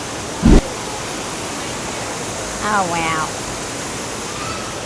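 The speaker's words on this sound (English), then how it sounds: "Look at the waterfalls." Waterfalls at the entrance of Disney's Polynesian Resort make a steady broadband rush of falling water throughout, with a short voice near the start and brief speech mid-clip over the continuous flow.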